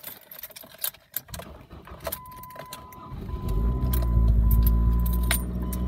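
Keys jangle in the ignition of a Ford Focus, with a short electronic chime partway through, followed by a steady low engine rumble that swells and holds close for the rest.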